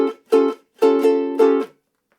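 Ukulele strums a single bar of an intro using an up-strum pattern: four bright chord strokes, close and clear, alone with no voice.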